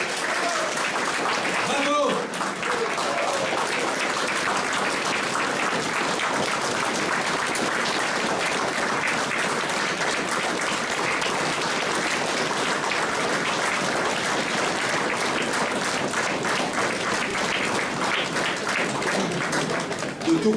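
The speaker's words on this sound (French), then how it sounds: "Martine, et qu'on les applaudisse chaleureusement." An audience at a 2022 order ceremony in Mouscron applauds warmly, with sustained, steady clapping throughout the hall, fairly close and even in volume, briefly interrupted near the start.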